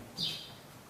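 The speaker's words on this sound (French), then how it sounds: "Il y a les oiseaux qui sont dans la maison carrément." Birds chirp inside a spacious house with a 150 m² living room of bamboo, pebbles and a huge solid-wood table; a single faint, high twittering burst rises briefly over quiet room tone.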